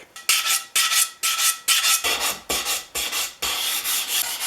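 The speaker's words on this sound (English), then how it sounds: "I'm going to use the 150 grit paper on the sanding block and go around all these outside edges right here" Sandpaper of 150 grit on a sanding block rasps along the outside edges of a Stanley Bed Rock 607 jointer plane in about a dozen quick, rhythmic back-and-forth strokes, close and loud.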